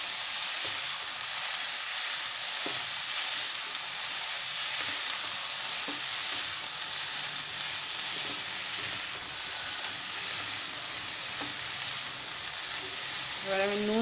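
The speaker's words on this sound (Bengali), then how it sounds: "কষানো হয়ে গেছে, এর মধ্যে আমি এই ডালটা দিয়ে দিচ্ছি" Dal added to a sautéed mixture for egg tadka bubbles and sizzles steadily in the pan, with occasional soft stirring knocks and a brief voice at the end.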